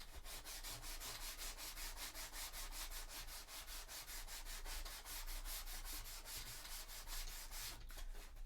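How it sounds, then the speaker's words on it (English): Sanding the base of a cosplay chainsword from Sisters of Battle: a steady, rhythmic back-and-forth rasping of abrasive strokes, close and continuous throughout. "See if I can just sand it off."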